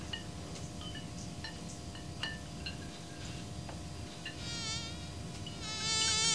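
A fly's wavering buzz in the TKKG video game hums steadily over a constant background, swelling louder in the last couple of seconds, with faint clicks scattered through.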